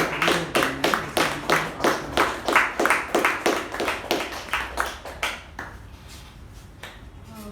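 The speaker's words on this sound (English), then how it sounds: "Keep the applause going." A small Toastmasters meeting audience claps in steady, evenly spaced beats for about five seconds, then the clapping thins out and fades into quiet room noise.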